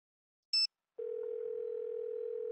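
A telephone in a Nancy Drew mystery game gives a brief high electronic blip, then after a short pause a steady, continuous dial tone hums on, moderately quiet and with no voices.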